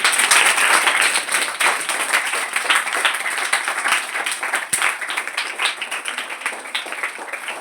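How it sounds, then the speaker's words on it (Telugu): A crowd claps steadily, loud at first then settling into a softer, uneven patter that continues throughout. "క్లాప్స్ కొట్టండి"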